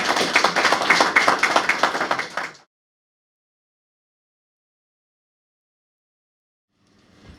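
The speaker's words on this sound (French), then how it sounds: "nous l'applaudissons très très fort" A burst of applause from an audience, steady clapping for a couple of seconds, then it stops abruptly and silence follows.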